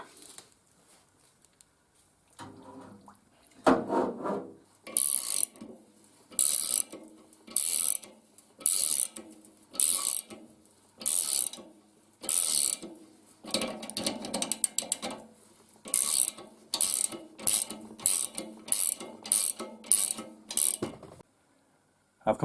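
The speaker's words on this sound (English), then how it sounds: "Little experiment with the ultrasonic cleaner." An ultrasonic cleaner runs with three dishwasher tablets dissolved in the bath as a degreaser, giving a rhythmic series of loud mechanical bursts with short gaps, repeating steadily after a quieter start.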